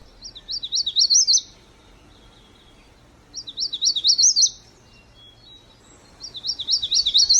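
Magnolia warbler singing three short, bright, rising-and-falling phrases spaced a few seconds apart, loud and close against quiet background, with no voices.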